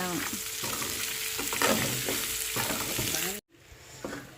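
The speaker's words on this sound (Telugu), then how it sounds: "ఇది కొంచెం ఫ్రై అవ్వాలి" Chunks fry loudly with salt in a home pan for a Sunday-special fry dish, a steady close sizzle with stirring scrapes and knocks, cutting to a quieter crackle near the end.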